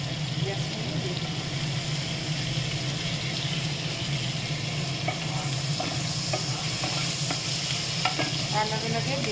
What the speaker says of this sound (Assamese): পিঁয়াজখিনি দি দিম।